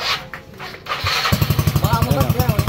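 A Yamaha Mio scooter being restored fires up on a single starter press, the motor catching after a second of quiet and settling into a steady, close, throbbing idle with regular pulses.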